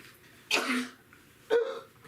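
Two sharp, explosive bursts from one person about a second apart, close and fairly loud, a sneeze or cough with a brief breathy tail.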